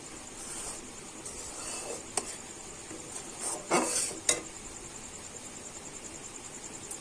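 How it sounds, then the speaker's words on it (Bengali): A spoon keeps stirring a powdered milk mixture for sandesh in a pan, soft repeated scrapes and faint sizzling with a few sharper clinks against the metal, no talking. "আর এই সময় কিন্তু অনবরত নাড়তে হবে, নাইলে কিন্তু তলা থেকে লেগে যেতে পারে।"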